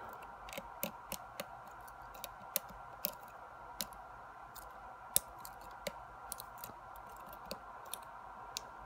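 Faint, sharp clicks from picking an Abus 83AL/45 padlock, scattered irregularly at close range over a steady background hum, with no speech.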